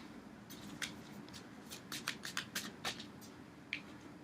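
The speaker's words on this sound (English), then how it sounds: "I always mess this deck up when I'm shuffling" A tarot card deck being shuffled, giving a quiet run of crisp riffling snaps and flutters, bunched in a burst and then a lone flick, close by in a quiet room.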